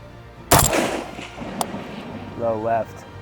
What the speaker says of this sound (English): So we'll load up some more, shoot a little bit more on it because it's just damn fun.